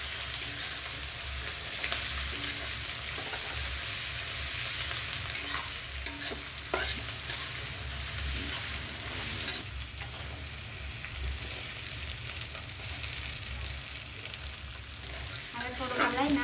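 Chopped onions fry in oil in a home kitchen pan, crackling and sizzling in a dense, continuous hiss while a spoon stirs them with soft scrapes and knocks, close up and steady throughout.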